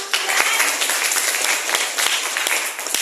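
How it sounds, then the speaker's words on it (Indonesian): Steady applause from a group, dense overlapping claps at a constant loud level throughout. "Oke, tepuk tangan."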